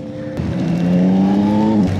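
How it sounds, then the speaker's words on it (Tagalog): A Yamaha Tracer motorcycle engine while riding: a steady, close engine drone that rises slightly in pitch as it accelerates, then drops off near the end, with no talking. "Tindi hanggang dito dinig ko yung motor"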